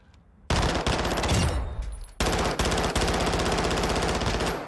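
Rapid bursts of MP7 submachine gun hipfire in Warzone 2 rip out loud and close, two long sustained strings of automatic fire separated by a short gap, with no talking.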